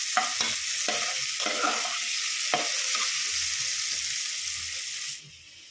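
Steady sizzling of vegetable pulao ingredients frying slowly in a pan, with a few sharp stirring knocks early on; the sizzle fades out near the end.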